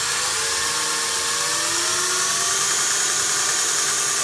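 Electric motor of a 2x72 belt sander driven by a variable frequency drive at quarter speed, a smooth close whine with rising tonal hum, steady and uninterrupted throughout.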